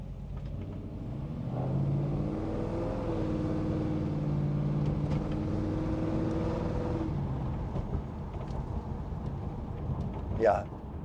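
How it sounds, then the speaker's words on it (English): A 1965 Mustang restomod's throaty 302 cubic inch V8 rumbles steadily, swelling slightly as it revs, then settles; a short squeak cuts in near the end. "So as you can hear, the V8 rumble."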